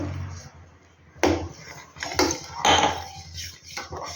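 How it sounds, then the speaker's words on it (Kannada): A spoon scrapes and knocks against a metal pot in a few distinct strokes as semolina cooked in milk is stirred, close and fairly quiet. "ರವೆ ಆ್ಯಡ್ ಮಾಡ್ಕೊತ ನೀವು ಕಲಿಸ್ಕೊಂತಿರ್ಬೇಕು ಅದನ್ನು"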